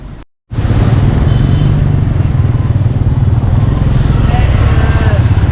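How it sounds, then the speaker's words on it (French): Scooters stream past on a busy Hanoi sidewalk near a roundabout, a dense, continuous roar of small engines, close and loud, after a brief moment of silence at the start. "Alors, on est sur un trottoir, hein, mais ça roule en scooter."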